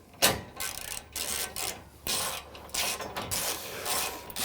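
A hand ratchet clicks in quick bursts while tightening the bolts on an Ironman 4x4 heavy-duty skid plate bracket on a Toyota Tundra frame, close up with rasping, rhythmic ratcheting.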